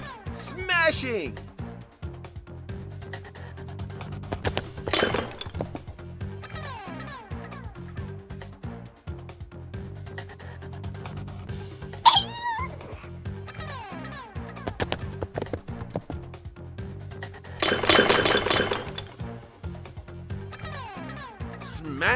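Crashing smashes from the Wild Kratts Rhino Bowl video game, with a few loud bursts spaced through the clip over looping game music and voice lines.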